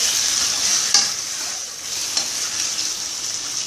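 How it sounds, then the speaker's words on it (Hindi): Chicken fries in hot oil over high heat for karahi chicken, giving a steady, dense sizzle throughout with a few brief louder crackles and stirring scrapes; no voices. "चिकन को थोड़ा सा भूनें, थोड़ा सा तेज फ्राई पे"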